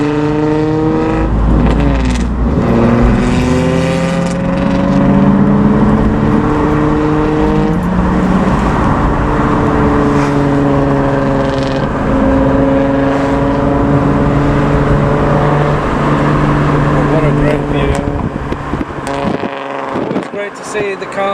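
Loud Nissan Fairlady Z engine idling and revving at a car meet in Japan, a steady, heavy drone with shifting pitch that runs nearly throughout, with people talking over it.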